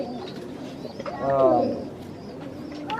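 Roller pigeon gives a single soft, throaty coo that swells and fades over about a second, close by, with faint background murmur and no talk over it.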